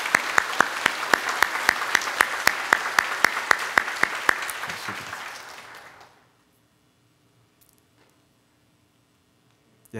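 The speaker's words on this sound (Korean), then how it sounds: "우리 박수로 환영하도록 하겠습니다" A church congregation applauds to welcome visiting prayer-house association guests during a Sunday service, dense sustained clapping with a few sharp claps standing out, fading out after about six seconds into near silence.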